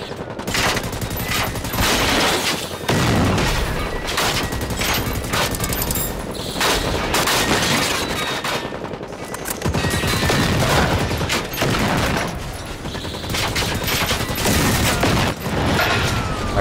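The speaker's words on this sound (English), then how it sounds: "Well, the machine guns are sort of doing their job." Machine guns roar almost without pause in the video game Generation Zero, a loud, dense, rattling stream of rapid gunfire that barely breaks over the whole stretch, with heavy overlapping bursts.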